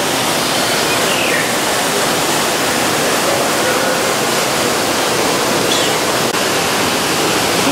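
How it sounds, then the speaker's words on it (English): Indoor waterfall inside an aquarium building, a steady broadband rush of falling water that fills the space evenly and loudly with no pauses, close and continuous throughout. "It has like a real waterfall inside."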